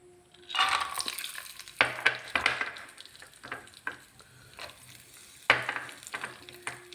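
Cashew nuts fry in a pan for pongal, with a soft sizzle and repeated scraping stirs and clinks of the spoon at close range.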